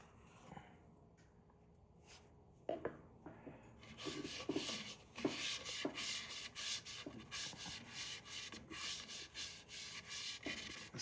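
Rubbing and buffing on a pecan wood bowl in a workshop, starting quiet with a few isolated scrapes, then a run of close, rhythmic rasping strokes that continue steadily to the end.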